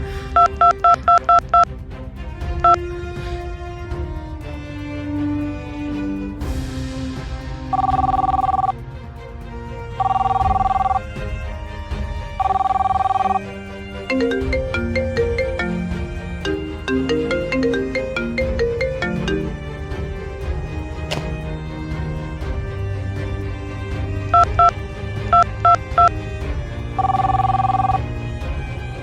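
A phone call plays out with repeated ringback tones and bursts of dialing beeps, the rings arriving in regular evenly spaced blocks over background music, loud and close.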